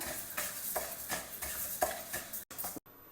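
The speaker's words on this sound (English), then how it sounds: "Dry roast it over a low flame just for a few minutes till you get a good aroma." Moong dal dry roasting in a pan over a low flame, grains rattling and shuffling as a spoon stirs them in short repeated strokes, close and fairly quiet with no talking.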